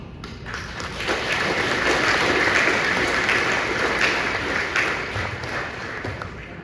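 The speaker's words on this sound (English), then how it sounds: "please join me in a round of applause" An audience at a veterans' dinner and dance bursts into sustained applause, a dense wash of clapping that swells and holds for several seconds before easing off.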